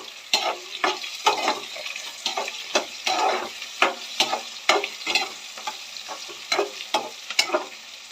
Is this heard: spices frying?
yes